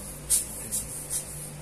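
Three short bursts of compressed-air duster spray blowing dust off the screen of an Oppo A3S phone before fitting a glass protector, each quick hiss spaced evenly apart over a faint steady hum.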